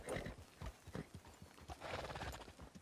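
Galloping horse hooves clatter in a quick, uneven rhythm, with a horse neighing partway through, in Red Dead Redemption 2.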